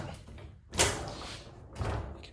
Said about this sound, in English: So yeah, this door is slightly sticking.